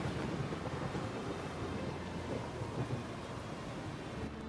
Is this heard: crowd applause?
no